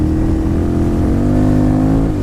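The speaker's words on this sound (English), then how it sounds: "I have this big KTM950 that, you know, V-twin," A big KTM 950 V-twin motorcycle engine revs loud and close, a dense continuous roar whose pitch climbs slightly and then settles over about two seconds, with no talking.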